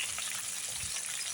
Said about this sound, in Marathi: मी मटकी आणली होती येताना बाजारातून, त्याला फोडणी टाकणार आहे.